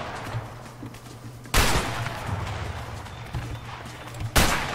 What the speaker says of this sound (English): I just literally got shot.